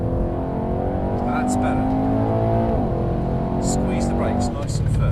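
A Mercedes-AMG car accelerates on a track, its engine note rising steadily and loud from inside the cabin while an instructor and driver talk over it.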